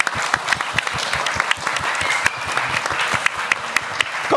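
Audience applause fills a festival podcast session on a Saturday morning, a dense steady wash of many hands clapping throughout with sharp individual claps standing out, sustained and close.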